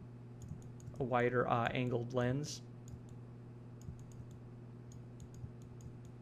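Faint, sparse clicks of a computer keyboard and mouse tick away in the background, while someone talks briefly near the start over a steady low electrical hum.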